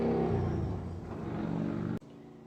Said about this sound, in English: Oh, love the traffic noise.